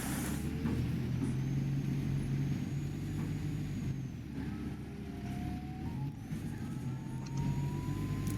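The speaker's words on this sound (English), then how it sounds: "Confused the gearbox, then it didn't know whether to change up or change down, so you just heard the Allison being very confused" Simulated Allison automatic gearbox in an Optare Solo M850 bus in OMSI 2, hunting between gears with a steady loud engine drone, shifting pitch and faint whines across the clip.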